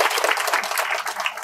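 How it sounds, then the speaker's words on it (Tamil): A loud, steady round of applause from an audience at a charity aid event, dense clapping filling the whole stretch without a break. "அவங்களுக்கு ஒரு பலத்த கைத்தட்டல்."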